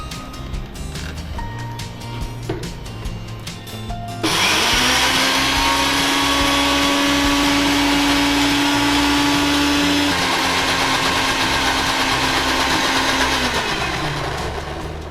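Mixer grinder blending spinach, green chilli and ginger with a little water: after a few seconds of clatter the motor kicks in with a loud, steady whine that holds for about ten seconds before easing off.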